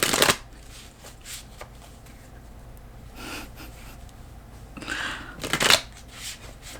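A deck of elemental oracle cards is shuffled by hand in several quick riffling bursts, close and crisp, with quiet pauses between them and no talking.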